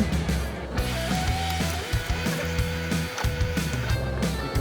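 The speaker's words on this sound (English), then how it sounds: "You can hear my heater running in the background because it's gotten chilly." A space heater runs with a steady mechanical hum and low droning rumble continuously in the background, with faint rattles and ticks over it.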